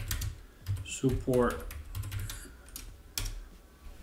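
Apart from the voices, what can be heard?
typing on a computer keyboard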